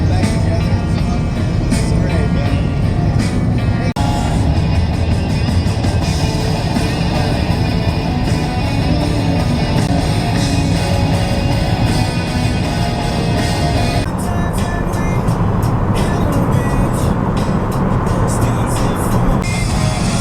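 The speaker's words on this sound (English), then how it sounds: "We're traveling around the rock right now, and we're cruising at around speeds of 60 kilometers per hour." A car cruising around Uluru at about 60 km/h, a steady broadband road and wind roar with rolling tyre rumble heard from inside, continuous and fairly loud, with no clear talking.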